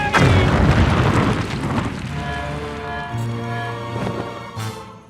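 A cartoon shooting star crashes down in a George of the Jungle episode, hitting with a loud booming impact that fades into a rumbling, ringing tail with sustained tones.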